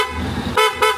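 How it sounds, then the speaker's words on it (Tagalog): An upgraded aftermarket horn on a Honda X-ADV 750 scooter gives two loud, sharp honks near the end, after a brief stretch of low background rumble. "Malakas busina na set kaya sa akin."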